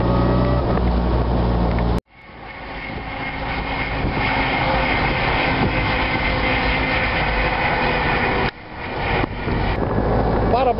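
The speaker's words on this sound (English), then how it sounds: "that grumble and rumble of a big engine." Big engine of a classic car with tall bonnet, big headlights and side-mounted tires at a classic car auction on Amelia Island, rumbling loud and steady close by, dipping briefly twice before grumbling back up; no speech over it.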